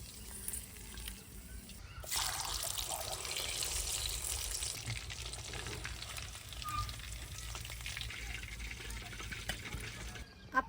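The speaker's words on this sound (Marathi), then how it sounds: "आता जे आपल्याला फ्राय करायचं आहे ते मी तळून घेते." Pieces of halwa fish sizzle steadily in hot oil in a pan, a continuous close frying hiss with a burst of louder sputtering partway through, with no voices.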